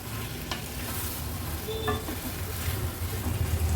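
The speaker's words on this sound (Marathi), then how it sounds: "कोलंब्या पण आणि बटाटा मसाल्यामध्ये छान आपण परतून घेतला आहे" Prawns and potatoes sauté in masala over a medium gas flame, giving a steady, close sizzle with occasional scrapes and clicks of stirring throughout.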